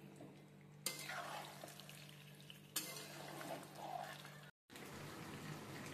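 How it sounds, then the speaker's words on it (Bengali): Chicken with Kashmiri red chili powder and spices is cooked over a medium flame, a soft sizzle broken by stirring clatters and scrapes in the pan, fairly quiet with a short cut near the end. "এবার ভালো করে মিশিয়ে আমি মিডিয়াম ফ্লেমে কষিয়ে নিচ্ছি।"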